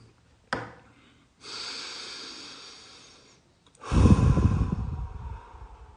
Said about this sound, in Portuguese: Respira com o nariz, solta com a boca.